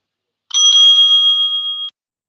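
A timekeeper's bell at a school debate gives one bright, sustained metallic ring lasting over a second before cutting off, loud and close with no voices over it.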